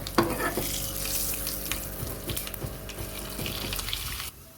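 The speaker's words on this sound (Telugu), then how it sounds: "వెల్లుల్లి అయితే కొంచెం ఫ్రై అయిపోయింది, ఎండుమిర్చి వేసేస్తున్నాను." Dried red chillies and garlic frying in hot oil, a steady crackling sizzle close by with a few sharp pops and clinks, running evenly before cutting off abruptly near the end.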